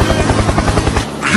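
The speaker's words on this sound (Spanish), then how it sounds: "Helicóptero, helicóptero." Helicopter sound effect: a close, loud rotor chopping in fast, even beats for about a second, then cutting off abruptly.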